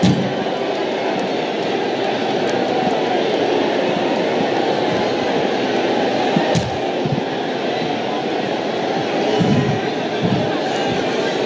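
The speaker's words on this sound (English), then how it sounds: "The crowd is buzzing." A wrestling arena crowd before a no-disqualification match fills the air with a loud, steady buzz and murmur, a constant dense din with a brief swell and commentators' voices running over it.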